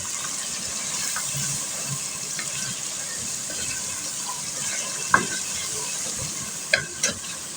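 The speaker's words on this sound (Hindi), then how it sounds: "हम सबको अच्छी तरह मिक्स कर लेते हैं।" Chicken with black pepper, salt and spices is stirred as it fries for chicken pulao, giving a constant close sizzle with a scraping stir and a few sharp utensil knocks near the end.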